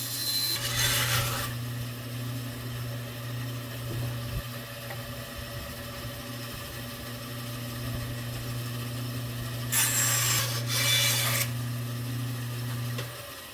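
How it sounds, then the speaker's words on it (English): A bandsaw runs with a steady low motor hum while wood pieces are cut, two bright bursts of blade-through-wood rasping standing out over the constant drone, close and without speech. "Now I'll go ahead and cut these on the bandsaw and see how it works."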